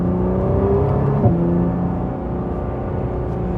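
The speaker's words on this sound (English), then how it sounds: "You can hear the turbochargers whistling away" 2020 Nissan GT-R 50th Anniversary Edition accelerating, heard from inside the cabin with a new exhaust system: a loud steady engine drone with rising whistling tones from the turbochargers layered over it, no talk.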